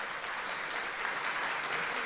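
Steady, dense applause from a large audience at a conference opening ceremony, loud and continuous throughout with no voices over it.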